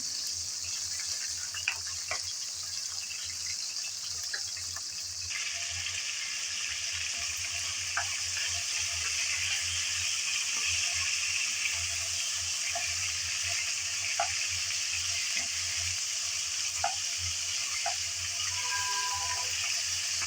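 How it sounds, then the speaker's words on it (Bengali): Shrimp fry in hot oil in a pan, a soft, steady sizzle with a few faint pops, heard alone and fairly quiet. "গরম তেলের মধ্যে দিয়ে দিলাম চিংড়িগুলো।"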